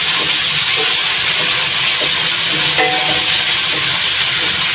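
Tomato goes into a pan of onion for sautéing while cooking ampalaya con tuna, making a loud steady sizzle and hiss throughout with a few faint clinks and stirring scrapes.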